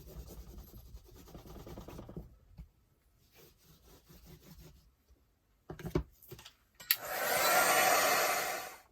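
A hair dryer runs on a mixed media craft piece, starting with an intermittent blowing and rubbing whir, then rising near the end to a loud, steady close-up roar.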